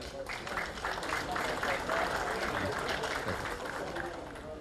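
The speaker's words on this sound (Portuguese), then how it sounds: "Palmas para o nosso irmão" Applause at a Masonic conference session breaks out as a dense, even wash of many hands clapping, sustained and fairly loud throughout with a faint murmur of voices underneath.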